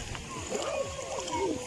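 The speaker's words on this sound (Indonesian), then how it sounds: "Ada ombaknya tapi kecil-kecil." Small waves on Lake Biwa splash against the shore as a steady nearby wash, partly covered by a person talking.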